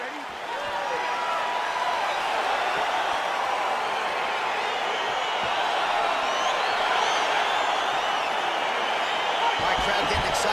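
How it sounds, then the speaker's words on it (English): Steady, loud crowd roar filling a UFC arena in the EA Sports UFC video game on PS5 as a fight gets underway, continuous and dense throughout with cheering texture and no pauses. "crowd getting excited as this fight gets underway"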